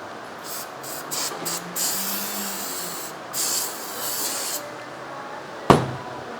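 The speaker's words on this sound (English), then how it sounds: "Use spray cleaner to clean it." An aerosol can of brake cleaner sprays onto a rear brake rotor of a 2015 Honda Accord in several hissing bursts, short at first and then longer, followed by a sharp clunk near the end.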